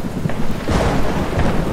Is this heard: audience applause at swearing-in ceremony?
no